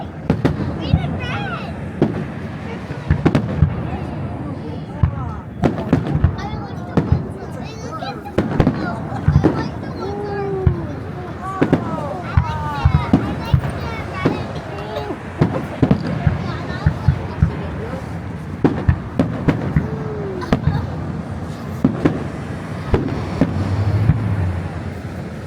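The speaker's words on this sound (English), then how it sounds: "That's a low one." New Year's fireworks bursting over the Tuckerton Seaport, with repeated sharp booms and crackles at irregular intervals throughout, mixed with nearby people talking.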